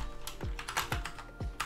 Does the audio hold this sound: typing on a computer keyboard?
yes